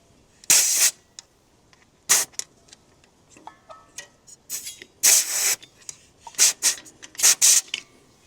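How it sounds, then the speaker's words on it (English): Short bursts of rubbing and scrubbing come up close around the bleeder bolt of a CAV diesel pump, irregular strokes with pauses between them. "I'm just going to clean around that little bolt there"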